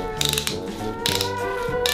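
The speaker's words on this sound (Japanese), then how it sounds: "入ってしまえばこうやってカリカリっとラチェットになってるんで" A handheld pineapple slicer is twisted into the fruit, its ratchet giving quick bursts of crisp close clicking in two short rhythmic runs, with no talk.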